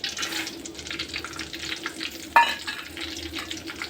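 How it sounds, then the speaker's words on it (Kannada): Curry leaves frying in a little oil for a chutney, a steady close sizzle and crackle with a sharp brief pop near the middle, no voices. "ಇವಾಗ ಕರಿಬೇವು ಸೊಪ್ಪು ಐತಲ್ಲ, ಅದು ಫ್ರೈ ಮಾಡ್ಕೊಬೇಕು"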